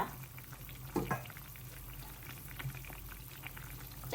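Red chili goes into a simmering Thai eggplant and pork red curry, with a steady bubbling boil, a couple of brief splashy stirs near the start and soft clinks later.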